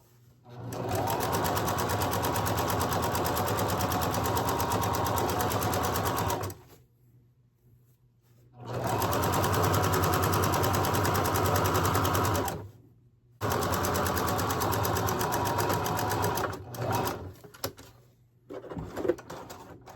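A sewing machine stitches an American flag quilt top in three fast, whirring runs separated by short pauses, close and loud, with faint handling sounds between bursts.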